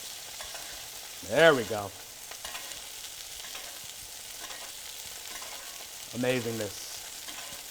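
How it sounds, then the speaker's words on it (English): Ribeye steaks sizzle and are basted in a hot pan, a soft steady frying hiss running throughout, with a person speaking briefly twice over it. "put that in the pan, like so. And then tilt and baste."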